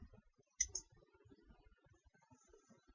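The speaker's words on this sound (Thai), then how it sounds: "ก็คลิกเข้าไปที่เว็บแอปนะคะ" A single sharp computer mouse click opening a web app, close and crisp against a quiet room, followed by faint low rustling.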